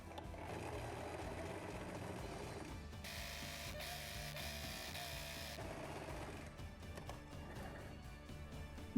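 A sewing machine stitches the sleeves of a thin cotton dress, a steady fast mechanical whirring with a brighter, busier stretch in the middle, running close and continuous throughout.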